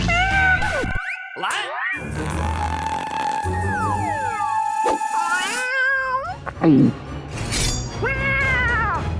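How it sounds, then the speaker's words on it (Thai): A cartoon kitten meows again and again, bright up-and-down cries over sparkly music, crashing and boing effects in a busy, loud mix with no talk. "ลูกแมว"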